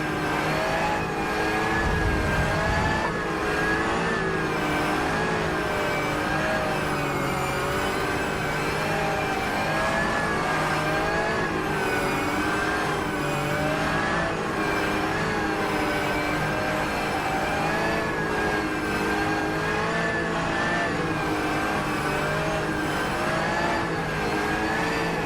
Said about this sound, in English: Race car speed is 47 miles per hour.